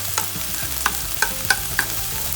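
Nopales and cilantro fry in a hot pan, a steady close sizzle punctuated by several sharp scrapes and taps of stirring, with no voices.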